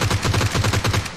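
Rapid automatic gunfire in a mobile battle royale game, a steady burst of about ten evenly spaced shots, loud and close with no talking.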